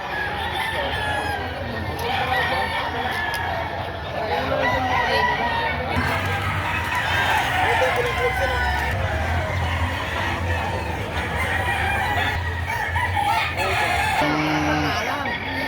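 Roosters crowing repeatedly at a gamefowl market in Padre Garcia, Batangas, several birds overlapping near and farther off, with clucking and a constant crowd murmur beneath.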